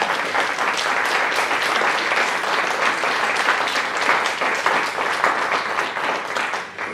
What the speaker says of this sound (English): I would like you to give him a kingdom applause.